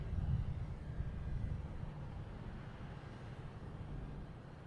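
A JetBlue airliner at Boston Logan Airport gives a low, steady engine rumble that drifts slightly in level, distant and moderately faint, with no voices.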